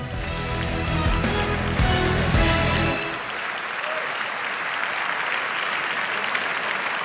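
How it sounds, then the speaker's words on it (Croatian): Big applause from the audience at the Porin 2019 music awards ceremony greets the evening's hosts; it starts under loud music that cuts off after about three seconds, and the clapping then carries on alone, dense and sustained. "Velikim pljeskom pozdravimo naše večerašnje domaćine"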